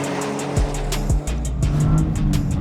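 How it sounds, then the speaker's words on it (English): A 2023 Toyota GR Corolla with an all-wheel drive system runs hard around a race track, its engine droning loudly with quick rising and falling revs and tire noise through the corner, with no talking. "get on the throttle and let that GR4 all-wheel drive system claw you back towards the apex of the turn"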